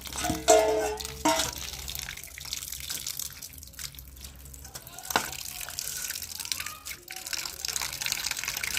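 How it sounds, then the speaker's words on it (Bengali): Small fish are rinsed by hand in water, giving intermittent splashes, trickles and drips at close range, with a faint voice now and then in the background. "তো বন্ধুরা আমি চুনো মাছগুলো ধুয়ে নিচ্ছি"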